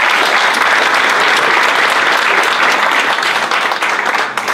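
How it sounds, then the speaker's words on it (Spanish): A crowd applauds loudly and steadily, a dense wash of clapping that holds throughout before easing slightly at the end. "Así que un fuerte aplauso para Steve."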